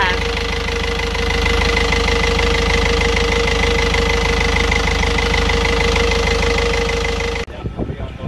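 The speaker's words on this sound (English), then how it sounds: "The engine's alive." A boat's engine idles close by during a sea trial, a steady, even throb that runs for several seconds before cutting off abruptly near the end.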